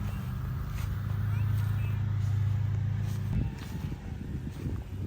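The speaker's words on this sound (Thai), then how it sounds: "เสียงก็จะตัดหญ้าอยู่ข้างบ้าน" A motorized grass cutter mows beside a house, giving a steady low engine drone that eases off partway through, with a person talking over it.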